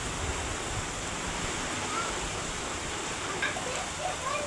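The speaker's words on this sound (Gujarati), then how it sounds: "પવન તમને સંભળાતો તો છે ઓલરેડી વિડીયોમાં." Wind gusting through heavy rain outdoors makes a broad, steady roaring wash, fairly close and continuous, with a few faint high chirps near the end.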